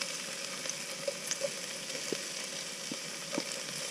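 Chilies frying gently in a pan inside a van, a steady soft sizzle with a few small pops and taps across the span, no voices.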